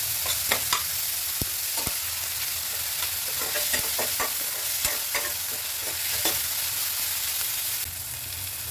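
Garlic, ginger and onion stir-frying in a pan for a Bodo pork dish with roselle leaves: a steady close sizzle broken by sharp spatula scrapes and clicks against the pan, with no talking.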